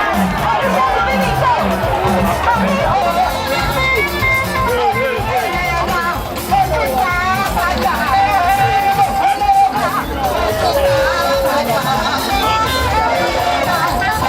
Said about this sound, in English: acknowledged cheers from the mammoth crowd that had come to witness the momentous occasion